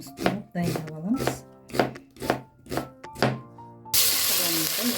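Onions being chopped with a knife for horse-meat kuyrdak: about seven evenly spaced, close knife strikes on a board, then a steady broad hiss takes over.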